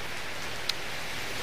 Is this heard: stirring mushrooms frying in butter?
no